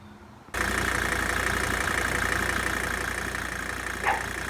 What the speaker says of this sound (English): once the engine is idling